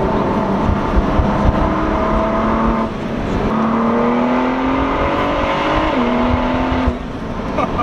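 Engine of a 2017 Ford GT heard from inside while driving up a mountain road, pulling loud and steady with rising, shifting tones through the gears and a brief lift around the middle, no talk.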